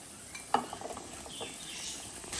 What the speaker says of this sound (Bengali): এবার আমি এই ছোলাগুলো মাংসটার সাথে মিশিয়ে একটু ভালো করে কষাবো।